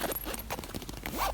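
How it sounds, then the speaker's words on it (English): Backpack zipper handled in an Egyptian store, giving a few close, quick rasping pulls over about a second with soft shop background. "So there are these nice sounding backpacks."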